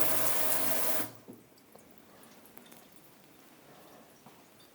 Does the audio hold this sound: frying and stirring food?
no